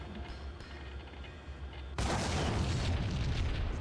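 A sudden loud explosion in the game Max Payne, bursting in after a low rumble of ambience and holding as a thick, roaring blast to the end.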